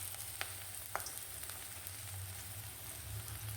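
Onion frying in mustard oil in a wok gives a faint, steady sizzle throughout, with a few soft crackles and taps near the start and no talking.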